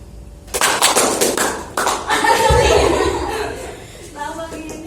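A classroom group doing a rhythmic clapping ice-breaker game, bursts of sharp claps in short sets mixed with chuckles and laughter, followed by a voice speaking near the end.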